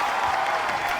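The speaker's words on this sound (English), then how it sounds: "Let's give her a round of applause." Short stretch of studio audience applause welcoming a guest on a holiday recap show, an even, dense patter of clapping throughout.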